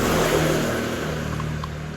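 A two-stroke motorcycle engine with a modified silencer exhaust gives a close, dry, crackling drone that eases off slightly over a brief stretch.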